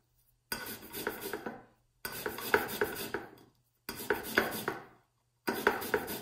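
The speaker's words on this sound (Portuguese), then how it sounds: "Então, vou raspar aqui só o amarelo da tangerina." Tangerine peel being zested with a citrus zester for homemade liqueur: four rough scraping strokes, each lasting about a second and a half, separated by short silent pauses, close and fairly quiet.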